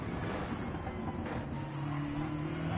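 Onboard BMW M6 race car engine in a racing game, a steady loud drone at Daytona with no talk.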